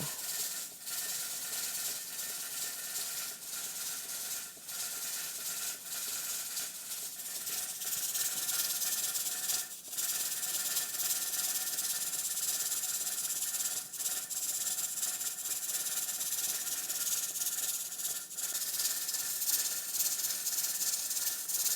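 A pressure canner holding about 11 pounds of pressure while pot roast cooks in jars sends out a steady, fairly loud hiss of steam, broken by brief irregular dips as the weight jiggles at a moderate pace.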